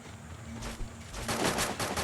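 Bursts of UMP submachine gun fire in Free Fire gameplay, a quick run of sharp rapid shots growing louder and denser in the second half, heard close with a low steady hum beneath.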